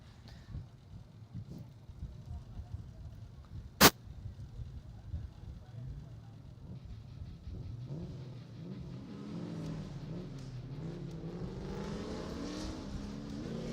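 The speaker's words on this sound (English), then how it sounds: "looks like Nick Novak in the lead and Frank DeLeon in the chase" Drift cars at a Klutch Kickers drift competition scream and rev, engines rising and falling as they pass at a distance, with a sharp pop early on and building roar toward the end under crowd and announcer noise.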